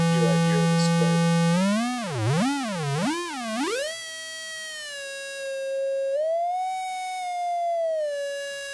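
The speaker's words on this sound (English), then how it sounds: "Here I hear the square wave." A synthesized tone, mixed from sine and square waves, that wobbles up and down in pitch like a siren, then settles into a steady buzzy held note with a small upward step, loud and alone.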